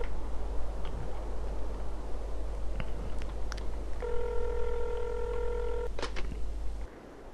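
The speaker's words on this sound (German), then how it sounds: "Na, ich rufe nochmal Pastor an" Telephone keypad tones from the video game Traumfänger play as a quick run of dialing beeps midway through. A few faint clicks and ticks sit over a low, steady hum of game ambience.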